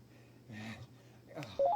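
A phone number dialed in a video game: a short run of rising touch-tone beeps at the end, after soft muffled rustling and clicks, fairly close and clear.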